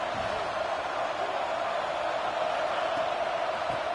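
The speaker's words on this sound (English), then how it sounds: "It's early, but this crowd is fired up. Listen to this noise here." A large stadium crowd in a college football video game keeps up a steady, loud roar of cheering throughout, with no break in the wash of noise.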